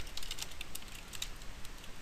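Quick bursts of keystrokes on a computer keyboard, light clicking taps in an irregular rhythm, close and fairly quiet with no voices.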